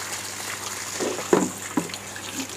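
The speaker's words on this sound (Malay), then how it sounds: "Anda tengok pada air keluar." Water trickles and gurgles out of an aquaponics plant trough during flushing, a soft running flow broken by a few brief splashes and drips, close and fairly quiet.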